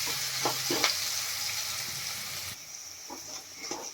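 Dried chillies, ginger and garlic stirred and fried in a pan for dal khichdi, with a steady close sizzle and occasional scrapes of the spoon against the pan.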